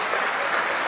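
People at a large Iranian opposition gathering clap together, a brief, dense wash of crowd applause at constant level.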